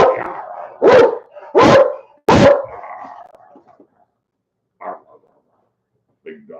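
Big dog barking three loud, deep barks close by in quick succession, followed by quieter trailing whines and a couple of faint yips.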